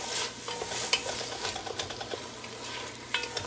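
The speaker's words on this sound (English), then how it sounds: "give my onion a few extra minutes by itself in the pan with that hot oil" Onion and garlic sizzle in hot oil in a pan while being stirred, giving a steady, moderate crackle with small scraping clicks and brief louder pops, close by with no voices.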